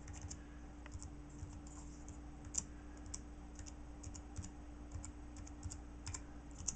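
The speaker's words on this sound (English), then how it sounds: "I'll type in my password here." Faint, steady clicking of keys on a computer keyboard as a password is typed at an iMac login screen, with irregular light taps over a constant low hum.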